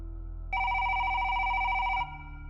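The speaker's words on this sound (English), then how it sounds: "when the public phone rang" A public payphone in an empty booth on a quiet street rings with a steady electronic trill, starting about half a second in and lasting roughly a second and a half before stopping, loud and close over a low hum.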